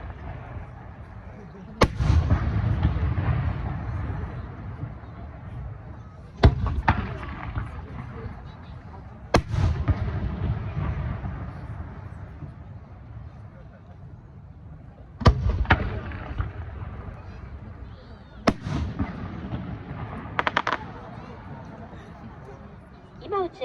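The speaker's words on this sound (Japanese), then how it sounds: "今打ち上がっているのは千輪という花火です。" Senrin fireworks at the 2024 Aioi Peron festival burst in sharp, booming reports spaced several seconds apart, echoing at a distance while a narrator talks throughout.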